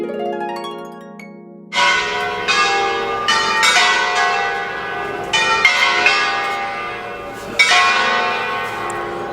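Church bells peal in Cinque Terre on the Italian coast, struck repeatedly in an uneven sequence with long ringing overtones that build and overlap, loud and close with no talk over them.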